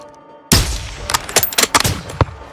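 Sniper rifle fire in the Modern Warfare 2 campaign: a sharp, loud shot breaks a near-silent moment, followed by a rapid run of several more cracking reports and echoing impacts, up close.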